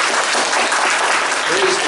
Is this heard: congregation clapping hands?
yes